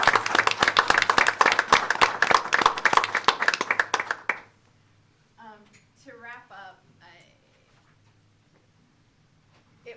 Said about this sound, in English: So I want to give a round of applause to Nancy for planning all of this.